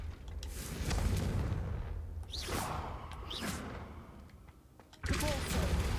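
The Confringo fire spell cast in Hogwarts Legacy, a sweeping whoosh followed by bursting blasts, with a short sharp impact near the end and no talk over it.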